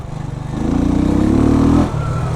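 Jamco motorcycle fitted with an Eagle engine, riding in second gear, its loud, steady engine drone rising in pitch for a moment before settling back down.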